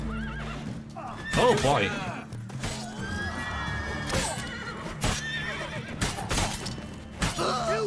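A horse neighs and whinnies in The Witcher 3: Blood and Wine amid combat, with hooves clip-clopping and game clashes, while someone talks over much of it.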